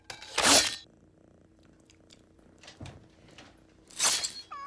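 A cat from a movie scene, X2: X-Men United, gives two loud, harsh hissing bursts, one at the start and one near the end. Quieter rustling and brief thuds fill the gap between them, and no one speaks.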